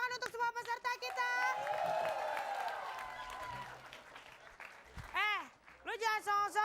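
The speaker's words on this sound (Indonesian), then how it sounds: "tepuk tangan untuk semua peserta kita" A studio audience at a comedy variety show applauds the contestants with a sustained wash of clapping and crowd noise, loud and close. A host's voice speaks over it before and after.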